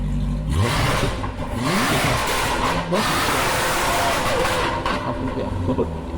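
A loud Jaguar F-Type sports car engine revs hard and roars through rising and falling pitch sweeps, close up and dominant, with occasional voices buried beneath.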